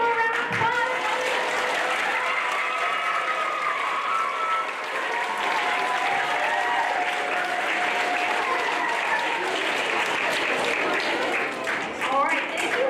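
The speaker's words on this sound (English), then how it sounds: "Let's give them a round of applause." A crowd applauds in honor of veterans at a school Veterans Day assembly. Sustained clapping and cheering fill the space throughout, with tonal whistles or voices and some crowd noise rising through the dense applause.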